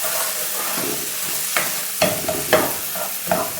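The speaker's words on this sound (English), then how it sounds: "give it a stir" Chili being stirred in a frying pan while okra is cooked: a continuous hot sizzle with several distinct scrapes and taps of the spatula against the pan, close and clear.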